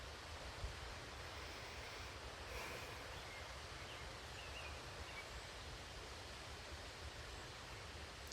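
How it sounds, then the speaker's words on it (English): Steady broadband wind blowing outdoors at a shooting range, a constant rushing roar with low gusty rumble and no other distinct sounds. "And the wind's calming down a little"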